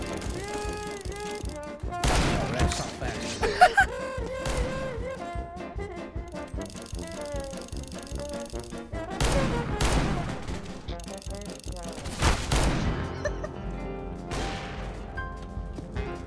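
CS:GO gunfire, likely pistol shots, in repeated sharp bursts and single cracks spread across the stretch, loud and close amid other game sounds.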